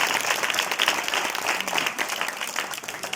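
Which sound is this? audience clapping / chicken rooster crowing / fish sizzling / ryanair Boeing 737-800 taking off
audience clapping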